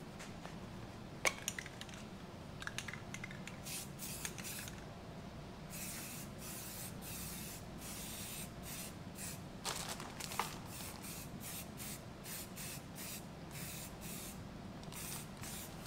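Primer paint hisses from a spray can onto a rusty metal roll cage in short bursts, quiet and close, with faint knocks and handling noises between passes.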